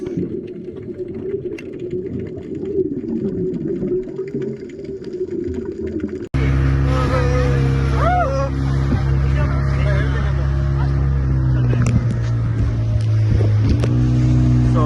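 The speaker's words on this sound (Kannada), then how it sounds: "ಸ್ಪೀಡ್ ಬೋಟಲ್ಲಿ ಇವಾಗ ಹೋಗ್ತಾ ಇದೀವಿ ಲ್ಯಾಂಡ್ಗೆ" A speedboat engine drones loudly and steadily off Netrani Island, jumping to a heavier roar partway through, with wind and water noise over the hull.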